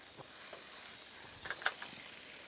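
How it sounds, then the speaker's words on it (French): Grey shallots and daisy buds sizzle in a pan as verjuice is poured in to deglaze, a soft steady hiss with a few brief louder spits near the end. "on déglace avec le verjus"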